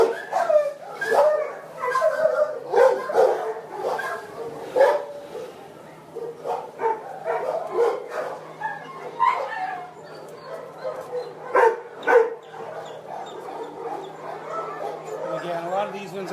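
Dogs bark, yip and whimper in a South LA animal shelter, short scattered outbursts at moderate distance with a person talking over them.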